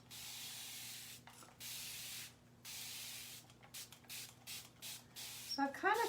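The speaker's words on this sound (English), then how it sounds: "I need to spray these." Water sprayed from a spray bottle onto transfers on a work surface, several short hissing bursts in a row, close by, without talk.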